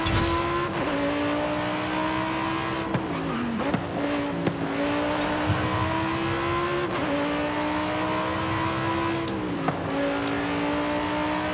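A Nissan Silvia's engine in Forza Horizon 5 revs hard and runs loud, rising and dropping repeatedly through gear changes and lift-offs, with occasional tire squeal throughout.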